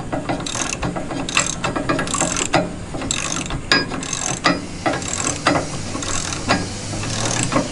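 A ratchet tightens lock-down hardware bolts on a four-post car lift, giving a steady run of close, rhythmic clicking strokes with short pauses between pulls.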